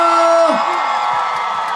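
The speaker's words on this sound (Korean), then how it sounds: "박수!" A festival crowd at the Imjil N Cheese Festival concert whoops and cheers loudly for a singer's fan club, with a brief high shout rising over a steady wash of crowd noise and applause.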